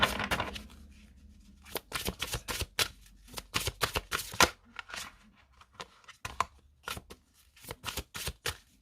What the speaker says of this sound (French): Maintenant, on va prendre 2 cartes.